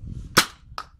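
Fenland Nerfworks Hotshock Mega foam dart blaster firing twice, a loud sharp snapping pop followed about half a second later by a quieter, shorter second shot, close to the listener with faint low rumble between.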